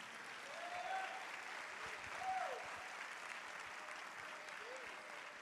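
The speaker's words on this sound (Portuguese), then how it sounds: "Vamos aplaudir ao Senhor," A church congregation applauds during a worship service, with continuous clapping in a reverberant hall, moderately distant, and a few faint voices calling out over it.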